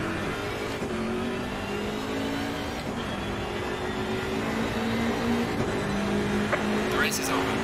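BMW M6 race car engine in Assetto Corsa Competizione, a steady droning whine climbing and shifting through gears near the finish line, with a brief tire squeal at the end and a voice talking over it.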